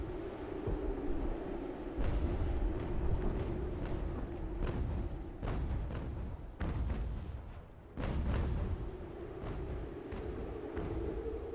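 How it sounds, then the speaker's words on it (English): Cannon artillery fires on a battlefield in Ultimate General: American Revolution, with repeated sharp booms, some near and some distant, over a continuous roar of battle noise. "I can also hope that my my cannons actually start doing some serious damage to the enemy."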